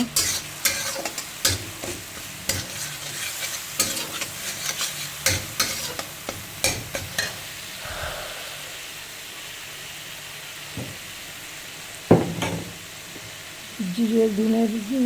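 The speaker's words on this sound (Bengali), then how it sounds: "জিরে কাঁচা লঙ্কা দিয়ে ভালো করে কষিয়ে" Cumin, coriander powder and green chili sautéing in a pan, with a run of sharp stirring scrapes and clatters early on that give way to a softer, steady sizzle, close by.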